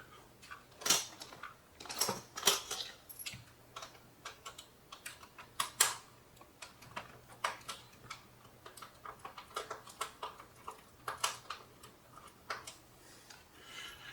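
Small screws are driven in during a budget PC build, producing sparse, irregular close-up clicks and light metallic taps against a quiet background.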